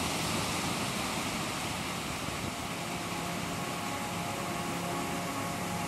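Weber Falls, a triple waterfall with a 76-foot total plunge in Tahoe National Forest, California, roars as a steady, dense rush of falling water heard close and loud throughout, with no talk.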